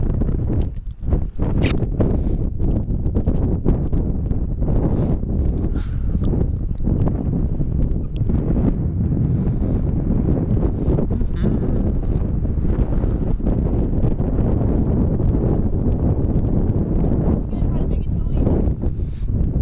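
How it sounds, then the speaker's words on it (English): Steady, loud wind roars across the microphone throughout, a constant blustery rush with occasional gusty buffets and faint voices underneath, during an Ariel Rider X Class 52v e-bike ride. "it's windy up here"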